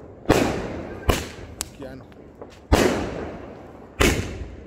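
Diwali firecrackers burst in four sharp, loud bangs at irregular intervals, each trailing off into a short rumble, with people talking and exclaiming in between.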